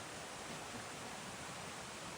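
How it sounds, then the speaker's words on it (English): A brook near a campsite along the Appalachian Trail flows in a steady, faint broadband rush, unchanging and continuous with no other sounds on top. "The brook, Cascade Brook."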